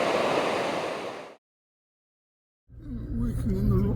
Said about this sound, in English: This is a river whose name I don't know.